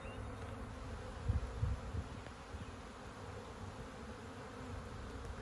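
Honey bees hum at a farm apiary in a soft, continuous drone with a few brief louder passes close by. No one speaks.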